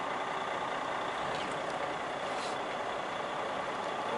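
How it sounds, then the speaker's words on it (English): A vehicle rolls along a road close by, a steady broadband rumble of engine and tyres with faint brief hiss bursts over constant traffic-like noise. "There's a car driving down this road right next to me."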